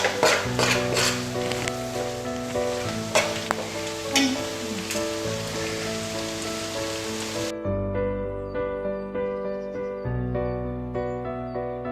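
Chicken curry with tomato and masala sizzles and fries steadily in a pan, a soft crackling hiss beneath prominent background music.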